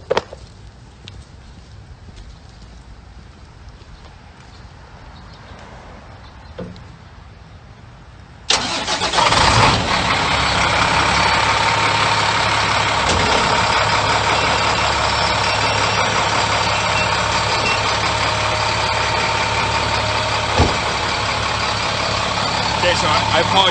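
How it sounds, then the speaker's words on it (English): A wildland fire engine starts up after a quiet stretch, then runs at a loud, steady idle with a dense, continuous rumble for a long time while a person speaks over it. "I'm gonna turn on the fire engine so we can get a little bit of water"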